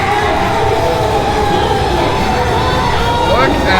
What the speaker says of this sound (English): Look at this crowd on their feet.